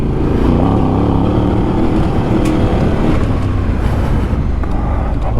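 A Voge 800 DSX Rally motorcycle engine roars loud and close while being ridden, a steady throaty drone with the pitch rising and falling as the throttle opens.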